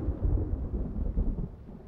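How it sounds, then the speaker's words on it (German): Low, rolling thunder rumble inside the Layers of Fear horror game, swelling in two broad surges over steady low noise with faint rain-like texture, no voices. "Okay, das war nur Donner."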